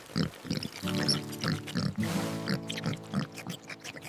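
Pigs on a small farm grunt and oink repeatedly, close by, in a steady run of low snorting calls with short pauses between them.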